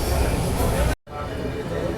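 Bharat Gaurav Express passing close on the rails, a loud rushing roar of wheels and carriages, broken by a brief gap before the clatter resumes.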